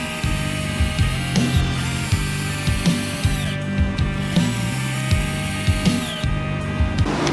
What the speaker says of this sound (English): Let's see how quickly these 12-volt drills can drill 6 1 5/8 inch wood screws into our 4x6.